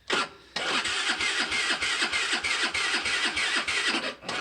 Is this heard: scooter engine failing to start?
yes